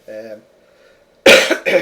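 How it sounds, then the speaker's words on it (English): A short voiced sound is followed by two harsh, loud coughs close by, the first stronger than the second. "I do apologise for the cough"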